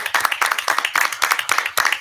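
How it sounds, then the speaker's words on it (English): Audience applause at a school board meeting: a full room clapping steadily and densely for two seconds, loud and close, with no talk over it. "Let's have another round of applause for all of our top Tigers."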